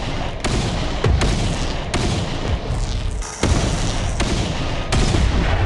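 Rapid bursts of gunfire from a tactical shooter, several loud volleys with sharp onsets and brief gaps, booming reports layered over a constant din of battle.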